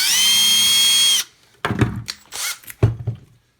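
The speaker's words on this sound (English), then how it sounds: "I got a set of drill bits here." A power drill with a 9/64 inch bit bores into a part during work on an Atari 7800 RF modulator, a loud steady whine for about a second, then several clunks and knocks as the drill is handled.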